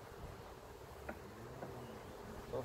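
Honey bees buzz around an open hive about 36 days after installation, a steady low hum with a few nearer bees passing by and no talking.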